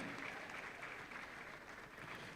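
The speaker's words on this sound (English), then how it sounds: "Please, let's encourage him. Give him a round of applause." Steady, dense applause from an audience at a swearing-in ceremony for foreign-trained medical and dental graduates, a continuous wash of clapping at moderate level with no clear pauses.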